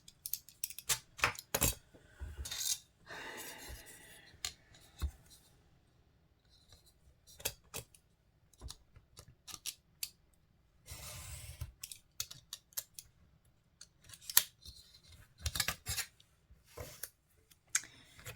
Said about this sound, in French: Alors, on coupe les angles.